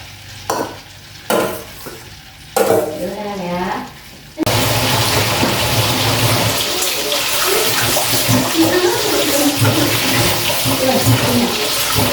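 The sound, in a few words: water running while washing a chopping board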